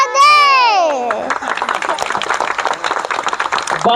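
Applause at a Shiv Jayanti celebration in Laxmivihar society, Talegaon Dabhade, for a child dressed as Shivaji: a long sustained voice opens, then a crowd's steady, close clapping continues to the end.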